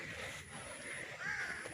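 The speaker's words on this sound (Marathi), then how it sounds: "अशी आवाज पक्ष्यांचा" Crows cawing in a green temple compound at a Swami Samarth math, with harsh calls close by over steady outdoor ambience and a louder burst near the end.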